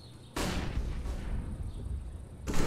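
A flashbang grenade goes off in CS:GO: a sudden loud, broadband blast with a bright hiss that holds for about two seconds, then a second burst near the end.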